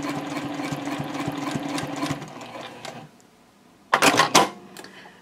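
A sewing machine stitches across a bag, running steadily for about three seconds, pausing briefly, then a short loud burst of stitching as it sews back over earlier stitches on a bowler bag.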